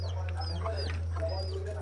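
Chickens cluck softly nearby in short, scattered calls over a steady low electrical hum.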